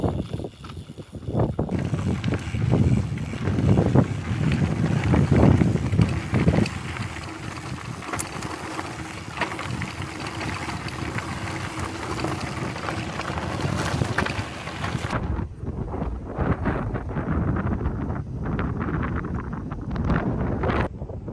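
Steady wind roar buffeting the microphone while riding bikes downhill on a ridge trail, loud and constant, easing somewhat toward the end.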